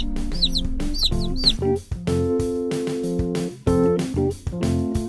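Three tiny newly bought baby chicks, featherless and handed over at a curbside pickup, give high, thin chirps in quick bursts early on, set against a steady tonal background.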